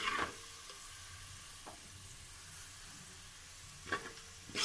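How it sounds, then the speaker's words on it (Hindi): Onions stirred and fried brown in oil: a faint continuous sizzle with occasional sharp clinks of a spoon on the pan at the start, midway and near the end, quiet and without talk. "ऑनियन को ऐसे स्टिर करते हुए इसे बिल्कुल ब्राउन फ्राई कर लेना है"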